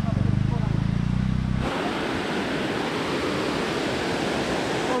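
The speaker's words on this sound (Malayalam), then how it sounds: "നമ്മളിപ്പോ വന്നിരിക്കുന്നത് നരിയമ്പാറ ട്രിപ്പിൾ വാട്ടർഫാൾസിലാണ്" Nariyampara triple waterfalls near Kattappana in Idukki, a steady broadband rush of cascading water that swells loud and constant after a brief low rumble at the start.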